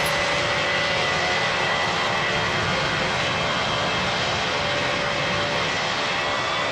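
An airplane roars overhead during plane spotting near an airport, a loud, steady broadband jet rumble filling the whole stretch with no talking.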